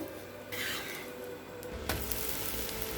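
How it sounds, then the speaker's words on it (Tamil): Besan dosa cooking on a pan over low heat, a steady frying hiss broken by a scraping turn of the spatula as it is flipped, then sizzling continues. "இப்போ தோசை ஒரு சைடு வெந்துருச்சுங்க, திருப்பி போட்டுக்கலாம்"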